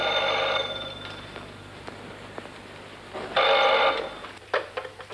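An old 1980s telephone bell rings in bursts, loud ringing at the start and again midway, with room noise in between and no talking.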